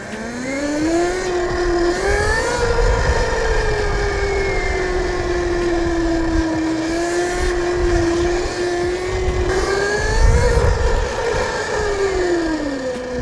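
An electric bike with an ETM RTR high-torque motor and chain drive is ridden, its loud motor whine holding steady, then rising and falling in pitch over a rough rolling rumble.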